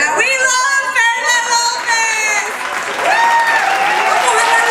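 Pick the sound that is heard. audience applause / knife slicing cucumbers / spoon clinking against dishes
audience applause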